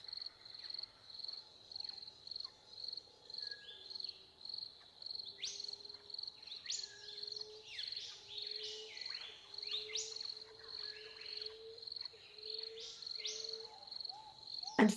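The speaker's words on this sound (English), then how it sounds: "as the silence comes to an end with the bird song" Birdsong drifts through a quiet evening outdoors, with repeated high chirping phrases over a steady insect or cricket drone, moderately faint and continuous without any speech.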